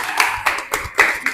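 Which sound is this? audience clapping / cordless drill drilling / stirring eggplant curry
audience clapping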